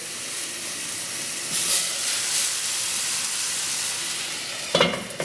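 Water steams and hisses off a pancake cooking in a covered pan, a constant fizzing sizzle at moderate level with a brief flare near the end.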